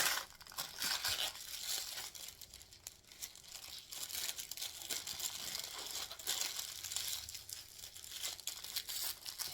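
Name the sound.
piping bag being twisted and tightened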